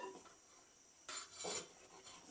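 A metal lid clatters against a clay pot of simmering fish curry, followed by a second clink and quiet kitchen rattling at low volume.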